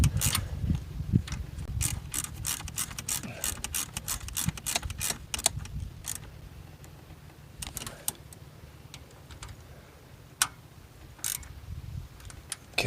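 A ratchet with an extension turns a bolt on a 2016 Chevrolet Cruze, giving quick runs of sharp, close clicks in irregular bursts over a faint low background hum.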